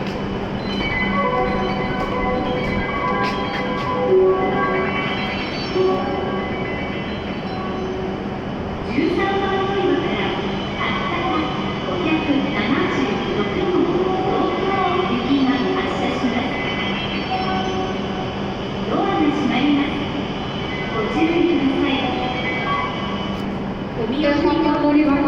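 A Hokuriku Shinkansen E7 series train, bound for Tokyo, pulls out of platform 13 at Kanazawa station. Its steady low rumble and hum run throughout, with platform announcements spoken over the sound.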